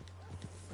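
Horse hooves clip-clop in Red Dead Online, a few quick hoofbeats over a steady low hum, fairly faint.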